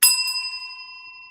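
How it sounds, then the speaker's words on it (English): A single bright bell rings once up close, a sharp struck ding that hangs and slowly fades over a second, with no voices. "Can you give them some hell and ring that bell?"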